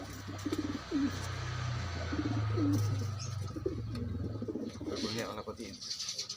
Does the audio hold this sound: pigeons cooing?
yes